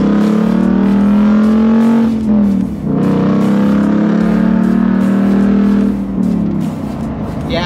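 A Ford Mustang GT with a 5.0L V8 revs loudly up close, a deep, throaty drone rising and falling in two long pulls with a brief dip between them, heard alone without talk.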